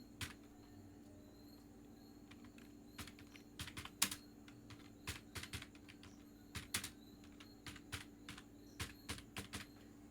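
Keys clatter on a computer keyboard as text is entered with a design program's text tool: quiet, irregular keystrokes in short runs, close up, over a faint steady hum.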